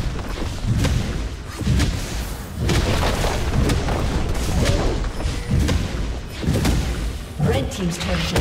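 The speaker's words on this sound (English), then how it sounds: "Blue team's turret has been destroyed." League of Legends gameplay as a turret is destroyed, with repeated booming impacts, thuds and crackling blasts in a dense, loud battle mix that pulses in bursts.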